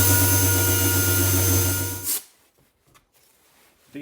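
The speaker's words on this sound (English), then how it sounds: "now I'm going back to an 80 grit DA paper" A DA sander with 80 grit paper works on a metal surface with a loud, steady whirring grind for about two seconds, then spins down and stops, leaving faint handling noises.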